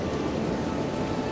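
Steady rain in the video game Planet Explorers: an even, dense hiss of falling drops that stays constant and fairly loud throughout, with no talking.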